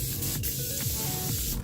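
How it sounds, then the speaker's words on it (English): An Evian facial mineral water spray giving several short, hissing spritzes in quick succession, close and fairly crisp. "I'm gonna spray my face with this Evian facial spray."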